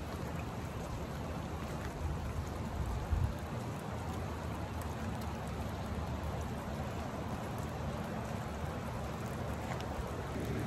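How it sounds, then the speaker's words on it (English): Steady rain falls in a continuous soft hiss, even and moderately quiet throughout, with no voices. "It's raining here."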